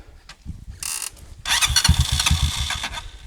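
A Honda XR 200 trail motorcycle cranks, sputters briefly, then catches and runs with uneven revving pulses, loud and close, on a dirt trail.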